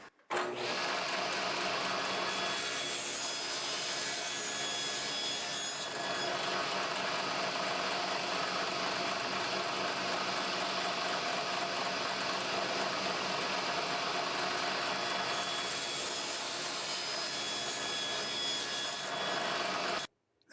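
A saw blade on a sled cuts tapered Jatoba and walnut staves, making a steady, loud mechanical whir for about twenty seconds with faint changes in load near the start and end. No one speaks.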